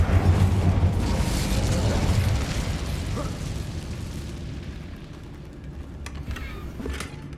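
The Incendio fire spell in Hogwarts Legacy, a loud fiery burst and rumbling roar that slowly fades over several seconds, followed by a few faint clicks.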